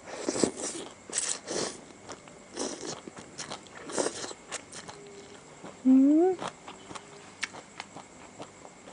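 Crispy pork papaya salad being eaten up close, a run of crunchy bites and chewing at an uneven rhythm, fairly quiet, with a short vocal sound partway through.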